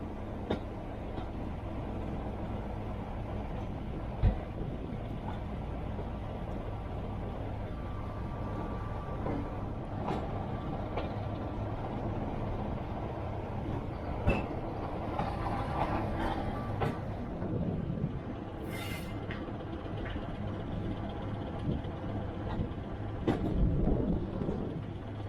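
A heritage diesel train rumbles along slowly at about 5 mph, pushed by a Class 25 locomotive at the rear, its engine droning low and steady with occasional clanks and squeals from the wheels and carriages.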